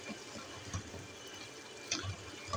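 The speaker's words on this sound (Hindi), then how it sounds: "1 कप के बराबर मैं पानी डालती हूँ" Water poured into a cooking pot of potatoes and fenugreek, a quiet, continuous trickle and splash with a few soft knocks, heard alone without talk.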